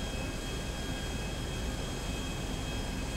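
Steady airplane engine drone in flight from GTA V, a continuous broadband roar with a faint high whine, holding even and unbroken throughout with no talk.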